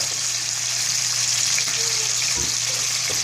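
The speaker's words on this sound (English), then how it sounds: "now I'm gonna just squeeze in some lemon juice in there" Garlic shrimp sizzling in a pan of olive oil and butter as lemon juice is squeezed in, making a loud, steady hiss that fills the moment with no talking.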